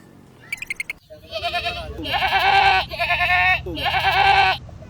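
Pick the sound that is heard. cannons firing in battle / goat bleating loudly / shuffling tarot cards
goat bleating loudly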